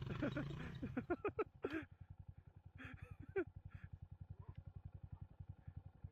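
A small single-cylinder Honda Monkey motorcycle engine pulls hard under heavy throttle on a backcountry trail, its steady pulsing chug rising and falling close by, with a few short voices and clatter early on.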